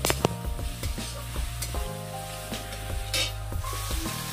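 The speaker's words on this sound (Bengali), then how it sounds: "তারপর এর মধ্যে আদা রসুন আর হচ্ছে লঙ্কা চপ করা যেটা ছিল সেটা দিয়ে দিলাম, দিয়ে ভালো করে আরেকবার নেড়ে নিয়ে" Ginger, garlic and chopped chili fry in a pan with a steady sizzle, while a spoon stirs and scrapes against the pan in repeated clicks and knocks. No voices are heard.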